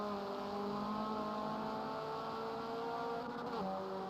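Small BMW production race cars in a racing video game endurance event at Homestead-Miami, engines humming continuously with layered whining tones and slight pitch shifts, steady and without talk.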